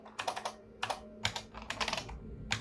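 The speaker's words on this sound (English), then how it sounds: "I don't know if you can hear the clicky keys" Clicky keys clatter on a real QuickBasic-era computer keyboard, with quick bursts of typing broken by short pauses. The sound is close and fairly crisp, with no voices.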